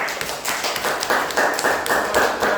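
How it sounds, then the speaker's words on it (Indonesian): A class of students applauds a group after its presentation, with dense, steady hand clapping in a classroom. The clapping is fairly loud and close, in choppy bursts. "Tepuk tangan untuk kelompok 2."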